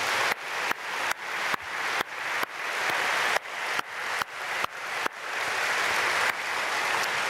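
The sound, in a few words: congregation applause in church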